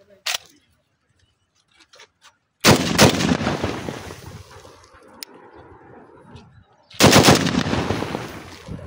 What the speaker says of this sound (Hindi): भेजने से पहले आपको हम इसका टेस्ट फायर भी दिखाते हैं